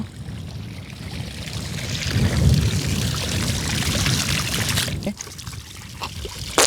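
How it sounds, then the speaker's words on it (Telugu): Irrigation water flowing across farmland plots near Vinukonda in Palnadu district, a steady broadband gush and trickle that holds for the whole stretch, with a brief dip near the end before it picks up again. "మొత్తం ఇప్పుడే వాటర్ పెడుతున్నారు."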